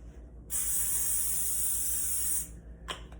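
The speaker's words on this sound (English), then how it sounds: "Spray the top layer of your potatoes with an olive oil spray." A single steady hiss of an olive oil spray can, lasting about two seconds, close to the mic, followed by a faint short rustle.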